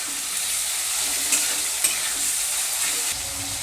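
Chopped onions fry in a pan on a gas flame, giving a steady, close sizzle with a few faint clicks of stirring throughout.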